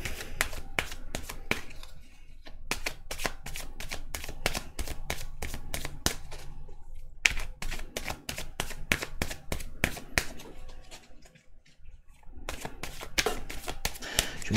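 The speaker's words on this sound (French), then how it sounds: "Je vais tirer 3 cartes de l'oracle des miroirs et 3 cartes de l'oracle de la triade" Oracle cards from a mirror oracle deck are shuffled by hand close up: quick, continuous riffling clicks with brief pauses between bursts, and no voices.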